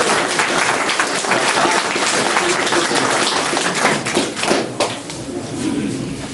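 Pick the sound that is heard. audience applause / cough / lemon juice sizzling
audience applause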